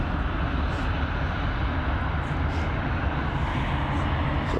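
A Boeing 737 airliner arrives at Dublin Airport with a steady, broad jet roar heard from a distance. The noise stays constant throughout with no clear rise or fade.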